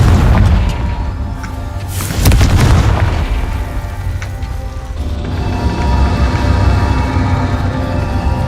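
A loud, booming Confringo blasting spell explodes in Hogwarts Legacy, with a heavy burst around the middle and a long rumbling tail of debris and game ambience after it.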